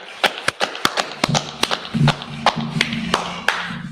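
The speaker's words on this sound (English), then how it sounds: "let's clap it up" Scattered audience clapping at a gathering, a handful of sharp separate claps spaced irregularly, with a low hum and some murmuring underneath.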